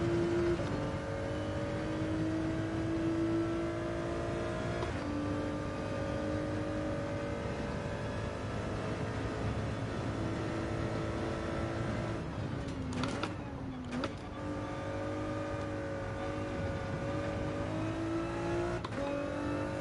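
A Porsche race car engine from the Gran Turismo 7 racing game drones steadily throughout, its pitch rising and falling with gear changes and a brief dip and surge midway, loud and continuous with faint chatter beneath.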